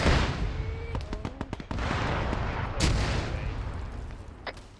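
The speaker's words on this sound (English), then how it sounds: "Artillery on the first line." Artillery fire during an Arma 3 battle: a run of distant cracks and booms in quick bursts, with one louder blast partway through, over a constant rumble of background battlefield noise.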